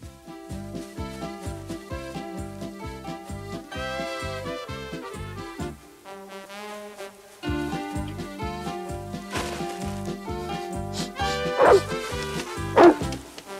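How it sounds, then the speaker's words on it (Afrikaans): Josef, a cartoon dog in an Afrikaans-dubbed Heidi episode, gives a few sharp yips and barks near the end over continuous, rhythmic background music. "Dit is nou die tweede keer dat jy jou neus in my hooi steek en blaf."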